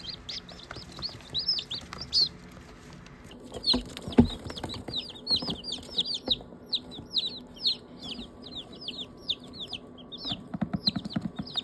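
Baby chicks cheep in rapid, high-pitched peeps, close by and repeated in quick bursts, with soft rustling and faint thumps underneath.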